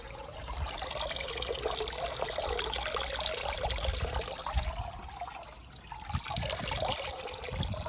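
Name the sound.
water draining out of a Land Rover Freelander 2 air filter housing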